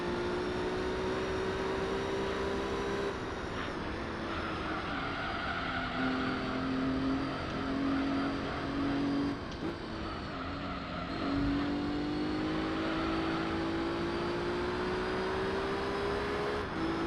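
A hot hatch car engine in Gran Turismo 3 drones loudly and steadily, rising and falling in pitch with gear changes and throttle through corners, continuous with no talk.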